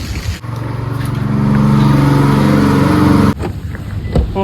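A car is parked outside in the rain in Lahore, its engine rumbling and revving for a few seconds before cutting off abruptly amid the hiss of falling rain.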